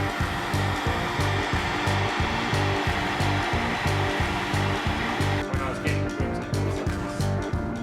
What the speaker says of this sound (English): I've got a heat gun.